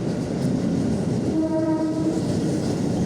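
A commuter train bound for Manggarai, Jakarta, arrives with a steady low rumbling roar nearby, and a horn sounds briefly in the middle.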